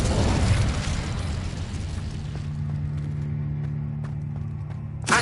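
Incendio fire spell cast in Hogwarts Legacy on PS5, a loud whooshing burst of flame at the start that fades into a lower rumble, with a brief flare at the end.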